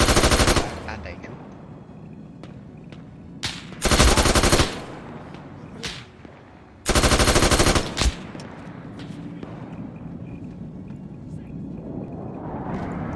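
Loud machine-gun bursts in a World War II shooter video game set during a French Resistance crossroads ambush. Three long bursts are separated by quieter gameplay ambience and faint single shots.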